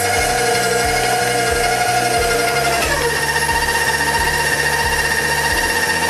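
Stand mixer with a paddle attachment folding whipped topping into an egg, cheese and pistachio mixture, a loud steady motor whir with a rhythmic low thumping and a slight pitch drop partway through.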